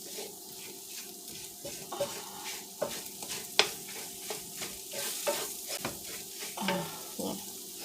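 Vegan beefless grounds browning in a hot pan, a continuous close sizzle broken by frequent scraping stirs and spatula taps.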